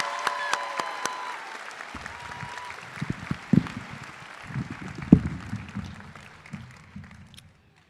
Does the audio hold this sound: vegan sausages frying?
no